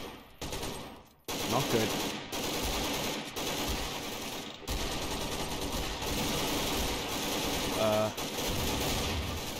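SWAT gunfire in Garry's Mod during a fight with Mr X near a burning hospital, with loud sustained automatic bursts broken by brief pauses and a short spoken remark.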